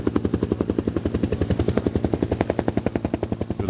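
A helicopter flies close by, its rotor blades thumping in a fast, loud, steady rhythmic chop with no voices.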